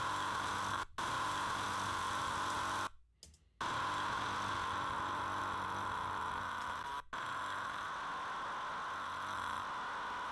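Loud, steady hiss of white noise at full volume, cut by a few brief silent dropouts, including one longer gap near the start.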